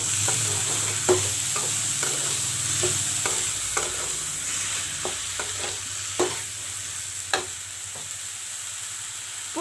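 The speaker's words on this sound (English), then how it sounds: "Now put in the green moong." Green moong hitting hot masala in a frying pan, a steady sizzle under repeated scraping stirs from a spoon, roughly a dozen distinct strokes at an uneven rhythm, close and fairly loud.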